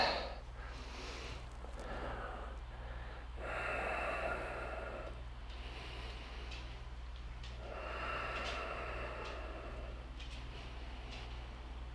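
Deep, steady breathing held through a yoga pose in a core flow class, with slow rhythmic inhales and exhales rising and falling over a constant low hum, fairly close and soft, no talking.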